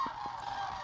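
Geese honk and squawk outdoors during a cycling trip across Canada, several short calls at moderate distance over a steady background hum.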